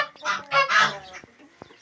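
Village chickens at evening feeding cluck and squawk in a few loud, close bursts, followed by fainter clucks.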